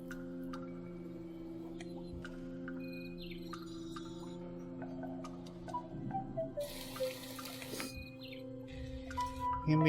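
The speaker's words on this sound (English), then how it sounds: "And then I want running water sounds." Running-water ambience placed as a 3D ambient sound in the PS4 game Dreams, a steady tap-like stream under bird chirps and tonal layers, with a brighter splashy burst near the end.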